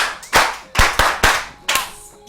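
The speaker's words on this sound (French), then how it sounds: "Est-ce que tu peux applaudir pour toi-même?" Children at a kids' show clap for themselves, a handful of separate sharp group claps with short gaps between them, close and fairly loud.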